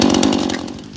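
Gas-powered weed whipper fitted with a round chainsaw-tooth brush-cutting blade, revving loud and close in a rapid, buzzing two-stroke drone that tapers slightly at the end.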